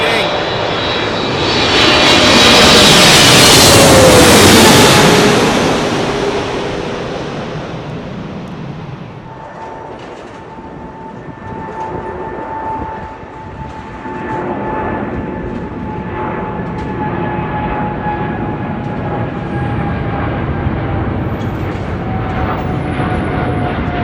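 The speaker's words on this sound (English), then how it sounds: "And here we have the Boeing 777 Air China." An Air China Boeing 777 jet at London Heathrow roars past loudly, swelling to a peak then fading into a lingering engine whine and distant rumble.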